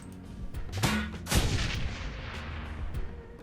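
Grenade explosions in the game Shadowrun: Hong Kong, two sharp booming blasts about half a second apart that decay into a rumbling tail, close and loud.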